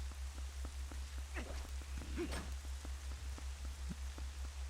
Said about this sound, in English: why does it stop raining when I go into that section over there?